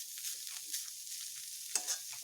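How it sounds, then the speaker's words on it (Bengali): Chopped banana stem frying in a pan, a quiet, even hiss of oil with a few soft stirring scrapes and one sharper clink, heard close for a couple of seconds with no voices. "একটু ভালোভাবে ভেজে নেব এই থোর"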